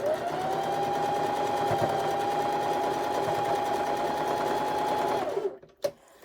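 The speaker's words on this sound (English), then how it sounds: "And off to the sewing machine we go." A sewing machine runs a long continuous stitching burst while piecing a Halloween wall-hanging quilt, a steady close whirring hum that stops abruptly near the end, followed by a couple of small clicks.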